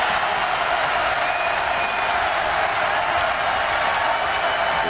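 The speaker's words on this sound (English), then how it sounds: "And now the crowd is really into it." A packed arena crowd at a Seton Hall vs. Rutgers men's college basketball game cheers and applauds in a steady, loud roar that holds for the whole stretch.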